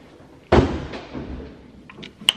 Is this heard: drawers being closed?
yes